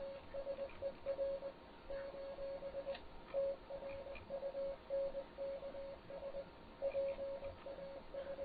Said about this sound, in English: can I upload Morse code?